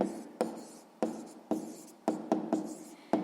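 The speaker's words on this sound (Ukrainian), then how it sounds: "Записуємо відповідь." Pen strokes scratch across paper in a steady series of about seven short bursts, each starting sharply and trailing off, recorded close and quiet with no voices, while a math answer is written down.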